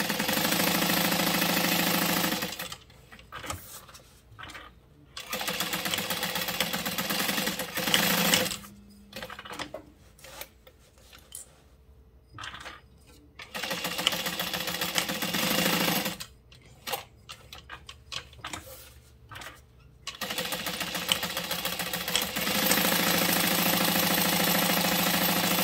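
Close sewing machine runs in long steady stitching bursts while the exterior of a fabric bag pocket is sewn along its raw edges, broken by short pauses and faint handling noises between runs.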